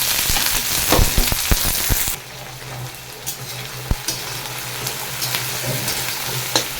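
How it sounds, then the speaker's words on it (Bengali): Chopped onion fries in hot oil with melted fat for a chicken and new potato curry, a loud sizzle at first that settles into a steady, softer frying hiss with occasional stirring knocks, no talking. "এবার দিয়ে দেবো, তেল গরম হয়ে গেছে, পেঁয়াজ কুচি"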